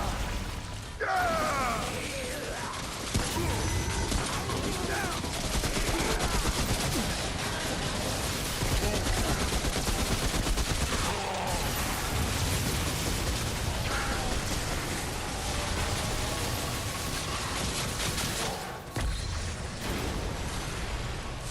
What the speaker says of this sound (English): Now that guy, I am going to use turrets on him.